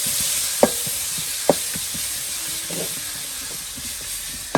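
Small pieces of meat for haleem fry and are stirred in a hot pan, a continuous close sizzle broken by a few sharp scrapes of the spoon against the pot.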